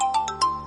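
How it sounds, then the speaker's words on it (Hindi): Phone ringtone, a short electronic melody of a few quick, bright chiming tones in a rapid pattern, clear and close, with no voices. "सजल का फोन है।"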